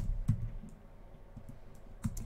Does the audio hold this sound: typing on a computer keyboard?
yes